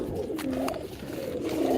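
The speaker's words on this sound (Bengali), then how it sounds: "এটা ঘনবাদী কবুতর" A pigeon coos softly and repeatedly, low rolling calls close by, with no one talking.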